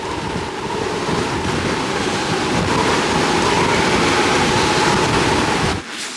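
Wind and surf buffet a sailing boat at sea: a loud, steady roar of gusts and breaking water with no break, dipping briefly near the end.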